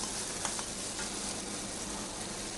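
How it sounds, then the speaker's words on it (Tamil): A salted shark fish masala with tamarind water sizzles and bubbles in a pan. The frying hiss is steady and close, with faint stirring ticks and no talk. "இதை ஊற்றிட்டு நல்லா கொஞ்சம் நேரம் சுண்டுற வரைக்கும் கொதிக்க விடணும்."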